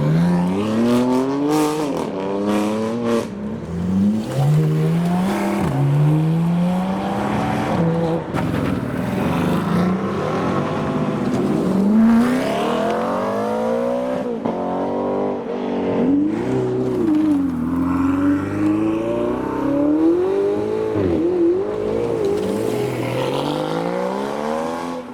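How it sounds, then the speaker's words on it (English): A Lamborghini Urus leaving a supercar event pulls away loudly, its engine revving in a continuous rising and falling roar that stays strong and close throughout. "Next up we've got Gary in the Lamborghini Urus"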